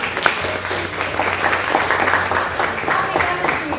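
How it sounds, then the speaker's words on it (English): Audience applause at a museum learning center speaker series, a steady dense clapping from a seated crowd that fills the whole stretch, with a faint voice or murmur mixed underneath. "Let's give him a round of applause."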